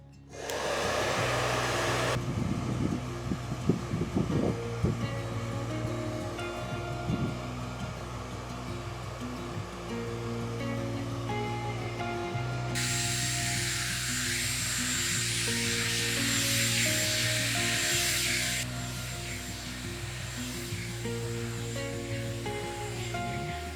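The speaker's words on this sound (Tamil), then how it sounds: "இப்போ வந்து கொஞ்சமாக ட்ரையர் யூஸ் பண்ண போகிறோம்" A hair dryer blows steadily on towel-dried hair, a loud continuous whir running almost without a break, its pitch and airflow roughening as the nozzle moves closer or the setting shifts partway through.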